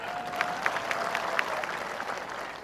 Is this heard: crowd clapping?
yes